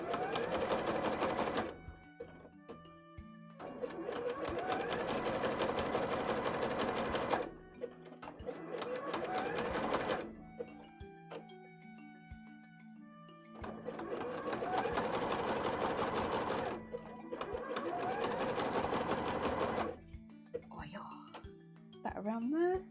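A domestic sewing machine stitches a bodice insert in fast, steady whirring runs of several seconds each, stopping and restarting with quiet pauses, clicks and a person speaking between bursts.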